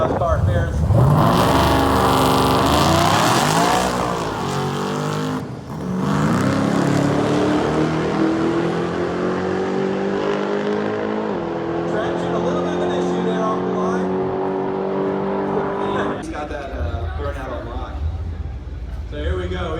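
A muscle car on 20-inch wheels with a drag radial, set up for drag racing at a muscle car show, revs loudly and launches off the line, its engine note climbing and then holding a steady roar, with voices talking over it.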